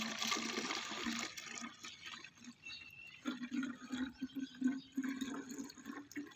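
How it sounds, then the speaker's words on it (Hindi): Water pours into a bottle for a homemade tobacco pesticide mixture, a gurgling, trickling fill with uneven splashes that grows louder toward the end, heard close with no talking. "2 लीटर पानी ऐड कर लेंगे।"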